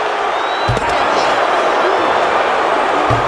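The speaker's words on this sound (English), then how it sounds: "And Yokozuna is revving this crowd up." A crowd roars continuously through a wrestling arena during an Extreme Rules match in the WWE 2K25 video game, loud and steady, with a couple of low thuds under it.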